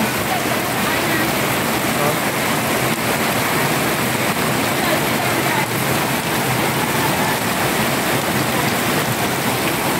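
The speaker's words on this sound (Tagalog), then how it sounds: "kunting ulan lang dito sa amin" Steady, dense rain pouring down, a continuous broadband hiss close by that fills the whole stretch without letting up.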